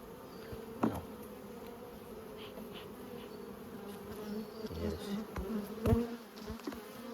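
Honeybees buzz around a five-frame nucleus hive being moved into a nine-frame super at Coramba, a steady droning hum with occasional louder passes of individual bees close to the ear.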